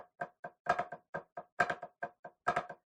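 Hybrid drum rudiment with paradiddle and flams, played a bit faster on a close, dry drum: quick sticking with doubled flam accents recurring in a tight repeating pattern, alone.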